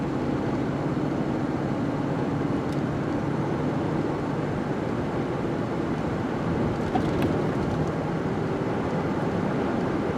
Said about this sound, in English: Giving it some beans there. You can actually hear it shift now.